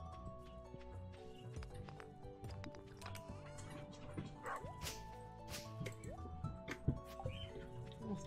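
Dog in the video game Stardew Valley barking and yipping in short bursts over light game music, with soft whimpers and clip-clop footsteps around it.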